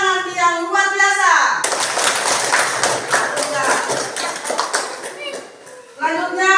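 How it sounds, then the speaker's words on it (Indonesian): Children in a classroom clap their hands together in a burst of uneven, closely spaced claps, with children's voices talking and singing before and after the clapping. "Mari kita beri tepuk tangan yang luar biasa."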